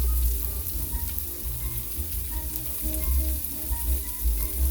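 Shrimp fry in a pan with a continuous close sizzle and crackle, a steady bright hiss over low bubbling throughout.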